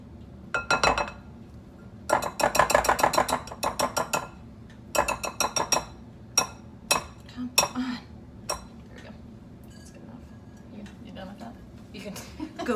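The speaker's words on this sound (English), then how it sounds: "I'm going to finish mixing it with just a spatula" A spatula scrapes and clinks against a bowl while mixing chocolate chip cookie dough, giving bursts of rapid rhythmic clicking followed by sparser single knocks, close and fairly loud.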